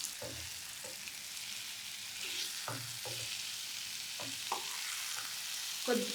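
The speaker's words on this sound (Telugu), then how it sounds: "మనం కట్ చేసి పెట్టుకున్న ఎగ్స్ని ఇందులో వేసుకోవాలి" Cut boiled egg pieces frying in a pan for a boiled egg fry curry, with a steady hiss of sizzling oil and a few soft stirring scrapes, close and alone.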